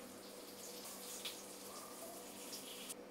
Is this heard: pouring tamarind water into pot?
yes